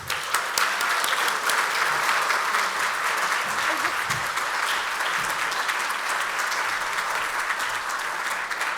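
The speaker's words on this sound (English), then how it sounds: "So, let's show Brad how much we care and give him a round of applause" Sustained audience applause for Brad at an evening arts benefit event, dense steady clapping from a large crowd lasting throughout at an even, loud level with no speech over it.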